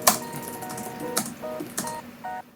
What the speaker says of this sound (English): Typing on this keyboard is actually fairly easy, even though the key presses are a little bit shallow